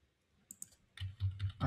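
Several clicks from a computer keyboard as the Enter key is pressed repeatedly during a Power Query session, a few soft taps followed by louder, heavier key strikes in quick succession, close and with no talking.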